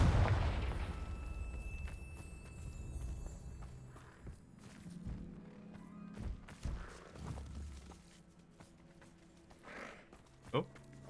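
A Confringo explosive spell blast in Hogwarts Legacy: a loud booming burst at the start that fades into rumbling game noise, with thuds and a sharp crack later. Voices talk over it.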